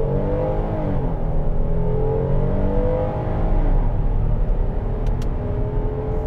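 A 2024 Hyundai Palisade with a naturally aspirated 3.8-litre V6 and 8-speed automatic accelerates hard, its steady loud engine drone rising in pitch through the gears with a sustained, close rumble and no talk.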